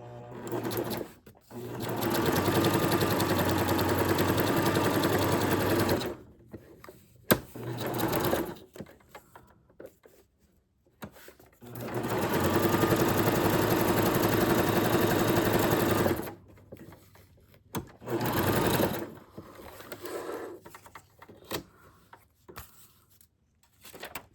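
A domestic sewing machine stitches fabric in two long, steady whirring runs with a rapid mechanical needle clatter, close and loud, separated by quieter pauses with brief handling clicks.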